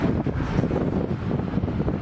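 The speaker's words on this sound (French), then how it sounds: "C'est impressionnant, il y a du vent." Strong wind buffeting the microphone on a bridge in London, a constant rough rumble with gusty fluctuations and no voices.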